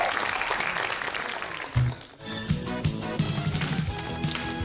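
A studio audience at a Korean talk show claps for a couple of seconds, then the applause gives way to upbeat music with a thumping beat.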